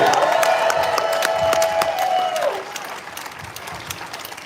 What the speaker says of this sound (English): let's give a huge round of applause to Kendra and Hannah and the organizers for